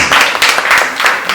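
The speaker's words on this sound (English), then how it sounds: "Clap hands for her." An audience at a women's entrepreneurship meeting claps, giving a loud, dense patter of many hands in steady waves, close and continuous throughout.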